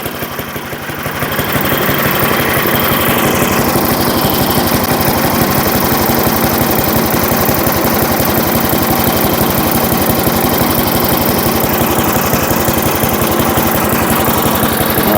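A vintage Firestone lawnmower engine, revived after twenty years of sitting, runs steadily and loudly at close range with a rapid, even chugging putter for the whole stretch, and no voices.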